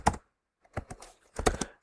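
Short bursts of clicky keystrokes on a computer keyboard as a command is typed, three quick clusters separated by brief pauses, close and clear with no talk.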